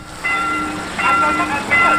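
A passenger train passes a railway crossing, with sustained tonal blasts like a horn or crossing signal sounding in three swelling bursts over a steady rumble of the moving train nearby.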